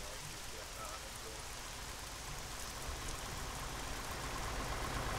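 Steady rain falls in the video game Arma 3 as an even, hissing wash with a low rumble underneath, continuous and moderately loud throughout.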